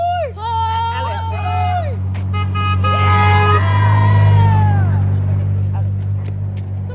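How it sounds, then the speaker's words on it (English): A car horn honks at close range over a running vehicle engine, with excited voices shouting during the prank. "Honk your horn! Honk!"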